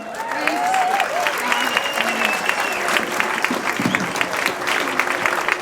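Audience applause for a musician about to perform a rap at the NOBAN gathering in Geneva, as a steady, fairly close wash of clapping with a few cheers mixed in.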